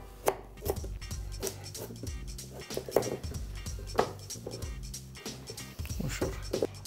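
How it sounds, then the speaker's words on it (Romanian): A knife chops an onion on a cutting board in a kitchen, giving a steady run of sharp, close taps with short pauses, loud and clear with no talking. "De ce mă pun toți șefii să tai ceapa?"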